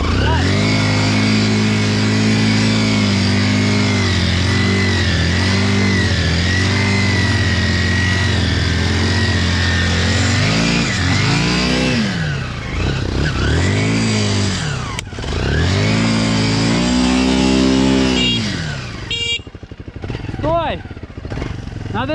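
A Minsk X 250 enduro motorcycle engine drones loudly at a steady high idle, then revs up and down repeatedly in surging bursts while it is pushed and ridden off-road, with people talking over the noise.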